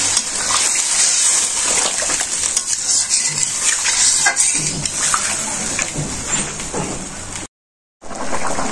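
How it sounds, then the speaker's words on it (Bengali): Water pours steadily into a pan of curry being cooked in a Bangladeshi village kitchen, a continuous close splashing gush that runs for several seconds before a sudden brief gap. "কষানো হয়ে গেছে, জল দিয়ে দিই।"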